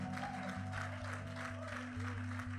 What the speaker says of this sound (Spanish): Aplaude a Dios ahora